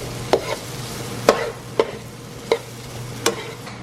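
Tomatoes hit a pan of onions and Scotch bonnet peppers, setting off a continuous sizzle under a low hum, with five sharp spoon-and-pan clacks spaced through the stretch, close by and no one talking.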